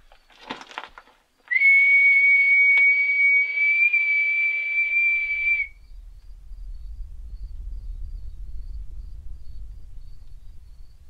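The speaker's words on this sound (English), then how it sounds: "Whistle first and then be quiet and then call." Outdoors at night, a single long steady whistle rings out clearly for about four seconds after a brief rustle, then gives way to a low rumbling background.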